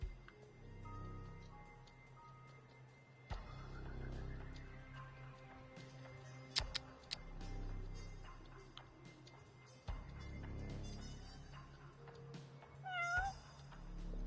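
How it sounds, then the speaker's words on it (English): A cat meows repeatedly in the video game Judgment, soft, plaintive calls spaced over ambient game music and clicking, fairly distant and quiet. "I can hear you, cat."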